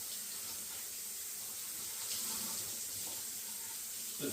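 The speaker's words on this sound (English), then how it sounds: "Now what I'll do is I'll just rinse them off in the sink with some cold water." Cold tap water runs steadily into a kitchen sink while vegetables are rinsed beneath it, a close, even splashing hiss with slight shifts as the stream is interrupted.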